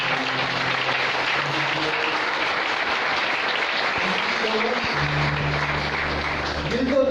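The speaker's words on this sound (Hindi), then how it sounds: "प्रभु को जोरदार ताली बजाते हैं।" A church congregation at a Sunday service applauds loudly, a dense, steady roar of clapping that holds for several seconds, with a low tonal hum rising near the end.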